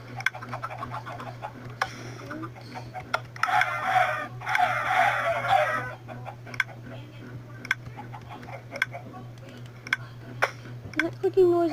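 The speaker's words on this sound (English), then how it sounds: "that clicking noise is the mine cart" A mine cart in a video game's automatic chicken farm gives off steady rapid clicking throughout, light and regular, with a voice briefly heard over it partway through.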